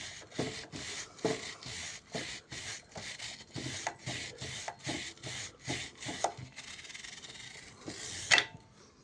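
A brush scrubbing a motorcycle chain, rapid rhythmic back-and-forth rasping strokes close to the microphone, about two per second, with a brief sharper scrape near the end.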